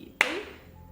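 A single sharp hand clap marks the dance beat in a Mohiniyattam Indian classical dance lesson, crisp and close with a short ringing decay in a quiet room.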